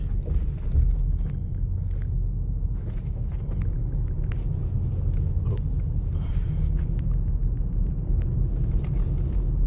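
A car drives with a continuous low road rumble and engine drone from inside the cabin, steady throughout with faint scattered clicks and bumps.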